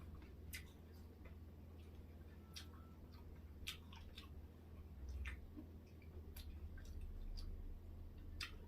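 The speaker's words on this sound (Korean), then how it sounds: "그래서 씹어서 고구마를 많이 먹어볼 때도" Quiet, close crunchy chewing of raw sweet potato with sharp irregular crackles over a soft low hum, bites snapping every second or so, no talking.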